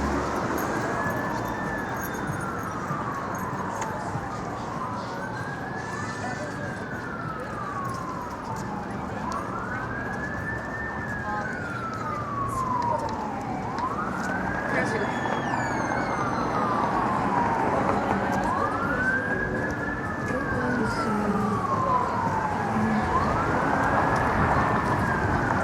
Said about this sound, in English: A lot of sirens.